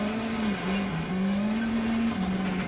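A car slides through corners in a racing sim game, its engine droning at a steady pitch that dips and recovers as a handbrake is pulled, with a continuous loud tone and no talking.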